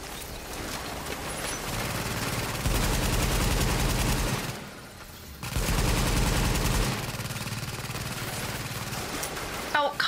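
Turret gunfire in The Division video game, sustained loud bursts of automatic fire with a short break near the middle, then resuming, dense and close, with a voice speaking over it.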